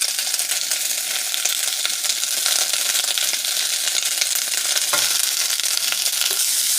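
Garlic sizzles in hot oil in a pan, a bright, continuous crackling hiss with small pops and a light clink partway through, heard close and alone.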